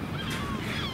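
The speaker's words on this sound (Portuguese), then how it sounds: "as gaivotas estão a gritar muito devido ao facto do drone estar a sobrevoá-las" Harsh, repeated seagull cries ring out over steady wind and open-air noise at Quarteira beach, Portugal, several birds calling at once from a moderate distance as a drone flies over them.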